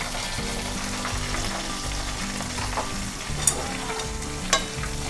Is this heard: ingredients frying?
yes